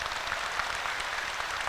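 A crowd at a religious talk applauds, giving a dense, even patter of many hands clapping together.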